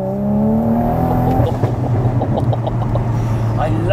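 A tuned Toyota MK5 Supra engine revs loudly, its note rising and then dropping off into crackling pops and burbles on lift-off, close and unaccompanied by talk.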